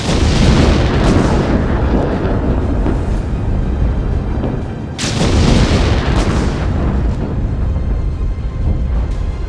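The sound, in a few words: explosions of Israeli missile strikes in Beirut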